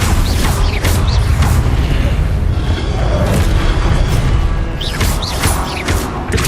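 Fiery spell blasts from Incendio and Confringo cast in the video game Hogwarts Legacy, a dense run of loud booming bursts and crackling impacts one after another over game music.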